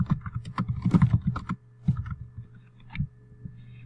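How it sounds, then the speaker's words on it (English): Close, clear computer keyboard typing, a quick flurry of keystrokes followed by a few isolated taps with pauses between them. "I type instructions if I want to."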